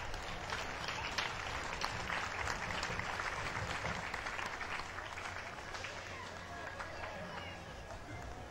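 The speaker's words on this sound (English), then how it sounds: "Round of applause for the folks from the Filling Homes." Applause and crowd noise at an outdoor 2008 Tomato Festival parade, a steady wash of clapping and cheering mixed with street ambience throughout, with an announcer's voice over it.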